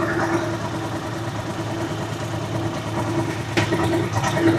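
A motorcycle that has sat unused for a month idles roughly after a hard start, a steady mid-pitched engine drone with a sharp click or knock near the end, close and without talk.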